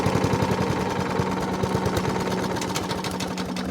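A Hayter Hayterette petrol lawn mower engine idles roughly with a fuel delivery problem, a steady close, loud chugging drone with uneven knocking pulses and no speech.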